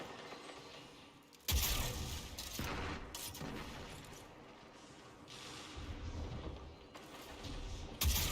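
A grenade launcher fires in ARK Survival Evolved, heavy booming blasts and explosions going off in several loud bursts between quieter stretches of game noise.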